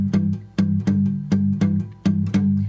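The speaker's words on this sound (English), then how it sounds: "So we're doing this Open G shuffle thing" Slide guitar in open G tuning plays a blues shuffle rhythm, with repeated strummed chord hits in a loping pattern, about eight attacks in under three seconds, close and clear with no talking.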